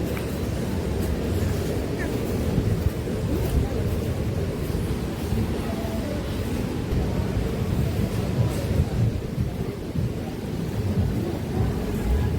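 Ocean waves roll onto the beach at Varkala in a loud, steady roar, with rumbling surf and wind buffeting the microphone throughout.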